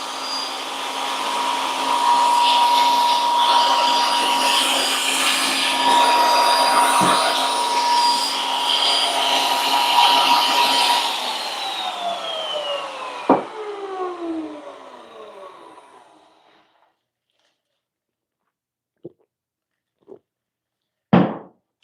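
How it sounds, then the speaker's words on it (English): A power trimmer cuts wood edge banding with a loud, steady whirring drone that spins down and fades to silence, followed by a few sharp knocks. "I can't believe I've actually never trimmed edge banding like this before."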